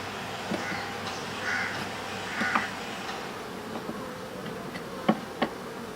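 Low, steady honey bee buzzing at a hive fills the background, with a few brief louder buzzes passing close now and then.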